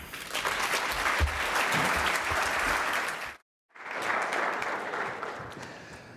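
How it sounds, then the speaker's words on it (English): A conference audience at ad:tech London gives a keynote speaker, Unilever's CMO, thick continuous applause that cuts out briefly to silence before resuming at a slightly lower level. "So please give a big round of applause for Keith Weed."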